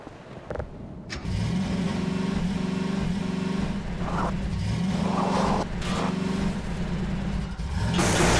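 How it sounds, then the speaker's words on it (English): A car drives in the Half-Life 2 video game: the engine starts after a short clunk, then runs steadily with rising and falling revs and brief bumps and thuds. The engine is loud and close, with no voices. "let's get with the car in there."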